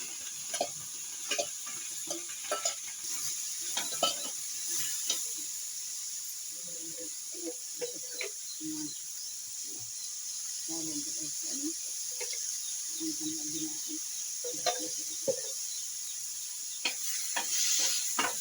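Curry leaves sizzle in hot oil as a tempering for tomato-tamarind chutney. Scattered pops and crackles run over a faint hiss, with stirring clicks and murmured talk in the background.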